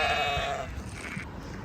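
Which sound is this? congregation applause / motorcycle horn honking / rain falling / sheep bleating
sheep bleating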